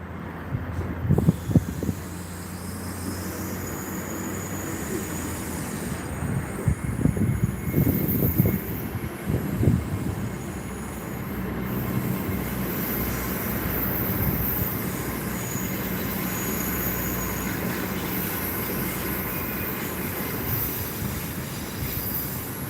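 Class 800 train 800-031 pulling out of Gloucester station: a steady rumble of rolling stock with squealing wheels and a bright high-pitched whine running the length of the recording, loud and continuous with no speech.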